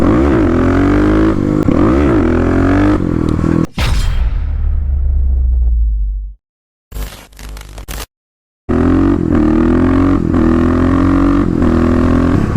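A Kawasaki KLX351 dirt bike engine roars and revs loudly with rising and falling pitch, then cuts out abruptly into brief silence before revving up again.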